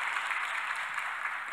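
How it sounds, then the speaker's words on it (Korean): Brief burst of congregation applause in a church service, many hands clapping in a dense, steady wash for a second and a half, fairly full and unbroken. "한 박수 한번 해주시기 바랍니다"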